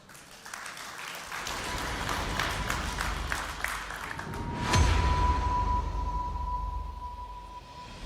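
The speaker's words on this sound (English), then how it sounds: "Big applause for him." An audience at a conference session claps for an opening speaker, with steady moderate applause across the room and a faint tone humming through it.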